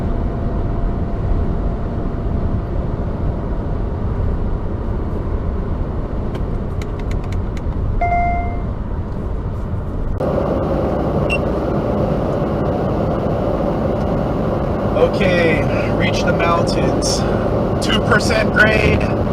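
A 2018 Subaru Crosstrek engine holds near 3,500 RPM to keep 65 mph up a 3% highway grade, a steady droning hum under road noise, with a voice talking over it.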